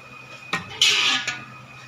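A metal utensil scrapes and clinks against a frying pan holding leftover Filipino-style buffalo chicken, with one knock, a loud scraping stroke and a final tap, close up in a quiet kitchen.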